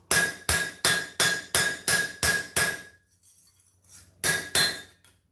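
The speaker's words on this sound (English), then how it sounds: "So I don't know if I can fix that with cold hammering or not." A hammer strikes a steel throwing star on a metal surface, cold-hammering a dished blade flat. Eight sharp, ringing metallic blows fall in steady rhythm, then a pause and one more strike, all close and loud with no talk.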